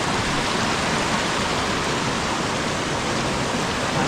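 A village river in rural Khed, Konkan, flowing as a steady, full rushing wash of water, close and constant with no voices.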